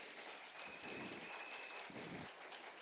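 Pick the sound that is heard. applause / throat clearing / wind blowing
applause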